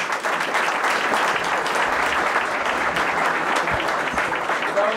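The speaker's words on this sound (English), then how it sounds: "One more round of applause" Audience at a Burlington Democratic caucus gives a sustained round of applause, dense even clapping filling the room throughout.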